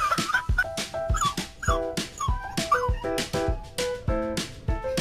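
Dog, likely a puppy, giving repeated sharp yips and barks mixed with high whimpers in an uneven rapid rhythm, close and loud, with no talking.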